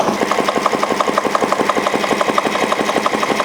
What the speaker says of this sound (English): So now we are going to add load on this engine.